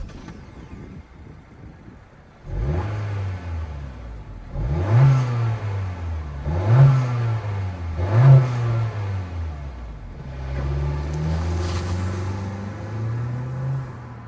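A 2023 Honda CR-V's 1.5-liter turbocharged four-cylinder engine with dual exhaust revs close by in three sharp climbing blips, then holds a steadier raised drone, with no voices.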